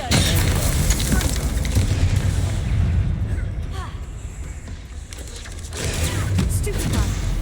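An Incendio fire spell is cast in Hogwarts Legacy, a loud whooshing, crackling burst that swells and fades amid continuous dense combat noise and spell effects, with a brief voice over it.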